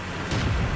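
A tank cannon firing in a tank video game, a British Cromwell, lands as a single dull boom about a third of the way in, sitting in a steady wash of engine and battle noise.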